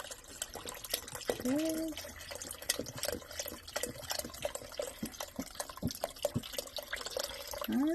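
Vegetable broth pours into a pot of minestrone soup with wet splattering and dripping, running continuously under a woman's brief remarks.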